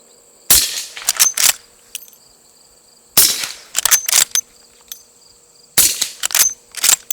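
A suppressed GForce Arms Mare's Leg lever-action fires subsonic .44 Special rounds, three muffled sharp reports spaced a few seconds apart, each followed by quick metallic clacks of the lever cycling.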